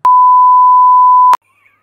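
A loud censor beep plays as one steady pure tone lasting about 1.3 seconds and ends abruptly. Near silence follows with only a faint trace of sound.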